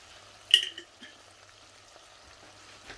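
Sweet chili sauce poured over paneer and capsicum in a hot pan gives a sudden sharp sizzle that fades into a quiet, low crackle with a few faint stirring clinks.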